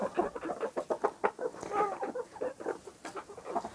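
Backyard chickens cluck close by in a busy, overlapping run of short rhythmic clucks and murmurs with no talking.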